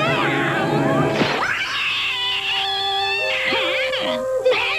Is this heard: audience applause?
no